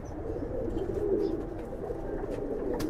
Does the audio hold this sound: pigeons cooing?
yes